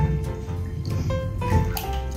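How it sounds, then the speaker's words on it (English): A bath bomb fizzing in bath water, a soft continuous bubbling and dripping hiss close by, with brief faint voices and clicks over it. "Our bath bomb is fizzling."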